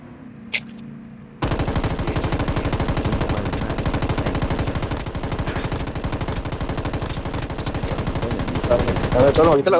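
Rapid automatic gunfire from a Call of Duty Mobile match, loud and sustained after a brief quieter opening, with game effects and a player's voice talking over the shooting.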